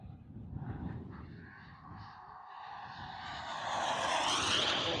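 A CARF Models Rebel Classic RC jet flies past on its first flight, its turbine whine rising into a loud, hissing roar as it nears.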